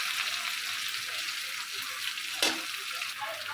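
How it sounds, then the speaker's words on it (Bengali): Ginger-garlic paste fries in oil with a steady, fairly quiet sizzling hiss, broken once by a short scrape or stir of a utensil. "আদা রসুন বাটাটাকে আমি একটু তেলের সাথে ভেজে নিই"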